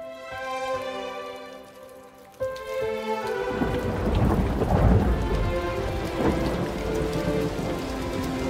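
A thunderstorm with steady heavy rain pattering on surfaces and a deep rumble of thunder that swells and lingers, starting under a soft tonal music passage and then filling the scene.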